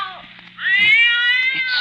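A cat wails as a radio drama sound effect, a rising, drawn-out meow that swells into a loud sustained caterwaul with wavering pitch, close and alone without speech.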